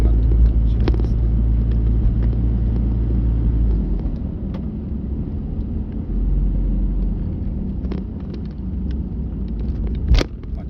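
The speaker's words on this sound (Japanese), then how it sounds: "強風やね。" Strong typhoon wind buffets a moving car during a drive in Fukuoka, a deep steady rumble of wind and road noise that swells and eases, with a sharp knock near the end.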